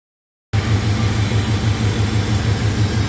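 A Chevrolet Suburban engine idles after distributor repair work, starting abruptly after half a second of silence and holding a loud, close, steady rhythmic rumble throughout.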